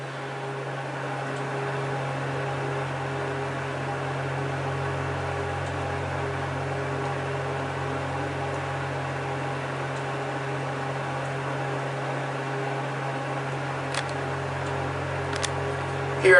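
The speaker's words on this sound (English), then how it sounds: "Oh wow, that's a good sounding motor." A steady low mechanical hum of an 8-story hydraulic elevator motor running continuously, with a constant drone and faint background fan whir, ending with a couple of soft clicks.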